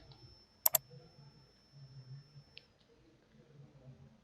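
Two quick, crisp mouse clicks close together near the start, pressing a submit button in fee-management software, followed by quiet room tone.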